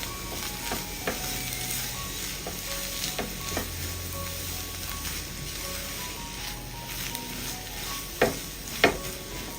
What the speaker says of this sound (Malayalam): അപ്പോൾ എല്ലാം കൂടിയിട്ട് ഒന്ന് ഇളക്കി യോജിപ്പിച്ചെടുക്കാം.